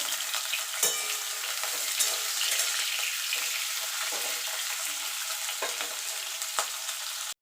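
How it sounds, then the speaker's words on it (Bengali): Drumstick stems fry in hot oil, a dense continuous sizzle with occasional sharp pops and stirring knocks, close and loud throughout. "এবার এই তেলে আমি সজনা ডাটাটা একটু ভেজে নেব"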